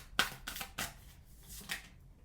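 Tarot cards being shuffled and drawn, a few close, quiet riffling bursts in quick succession before fading, no talking.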